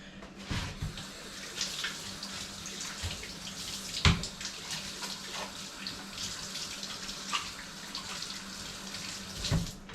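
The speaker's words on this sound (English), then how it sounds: "So let me wash my hands off." Hands are washed under a running kitchen tap, a steady hiss of flowing water broken by splashes and a few sharper knocks, close and moderately quiet, with no one speaking.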